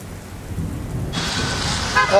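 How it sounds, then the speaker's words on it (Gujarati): Rain in Ahmedabad hisses steadily, then grows into a heavy wash partway through, with a low rumble underneath and a faint horn near the end. "અમદાવાદમાં સતત વરસાદ વરસી રહ્યો છે"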